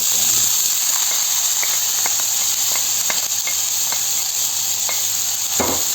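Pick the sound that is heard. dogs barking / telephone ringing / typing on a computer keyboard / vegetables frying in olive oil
vegetables frying in olive oil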